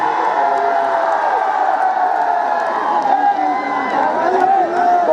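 A huge outdoor political rally crowd in Kaushambi roars and cheers without pause, a dense, loud wash of voices, whoops and shouting that holds steady from start to finish.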